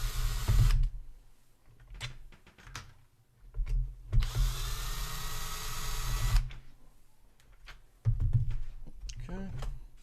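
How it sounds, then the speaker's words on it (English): A cordless drill with a hex bit on its lowest torque setting drives screws into an Onewheel electric skateboard, giving several short whirring bursts of varying length separated by pauses, close and fairly loud. "just throw your hex bit on a drill. Make sure you have it on the lowest setting."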